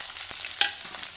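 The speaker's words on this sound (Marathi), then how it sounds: "तेल गरम झाले आपण कढईपत्ता घालून घेऊ" Curry leaves dropped into hot oil in a kadhai on a gas stove, a close, steady crackling sizzle with a sharper pop partway through.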